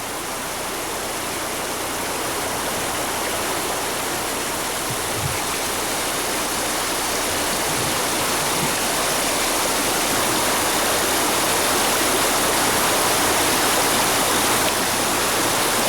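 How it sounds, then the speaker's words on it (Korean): A mountain valley stream at Taebaeksan, running through snow-covered banks, rushes loudly and steadily with a dense, continuous watery roar that stays close and unbroken throughout. "눈 덮인 계곡 물소리가 힘차게 들린다"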